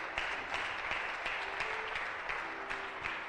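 Church congregation applauds during a sermon, a steady wash of clapping from many hands, moderately loud and sustained for a few seconds.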